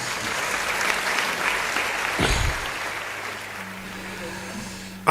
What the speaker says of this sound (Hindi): मैं उन लोक कलाकारों के लिए भी एक तालियां आमंत्रित कर रहा हूँ।